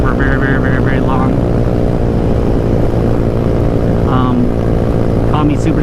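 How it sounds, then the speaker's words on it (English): A GY6 scooter engine drones loudly and continuously while riding, with heavy wind rush and a voice talking over it. "I don't really like to hold my GY6 motor at wide open throttle for very long"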